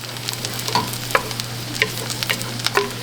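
A spoon stirs a dark roux for seafood gumbo in a pot, scraping and clicking irregularly against the metal over a soft steady sizzle and a low hum.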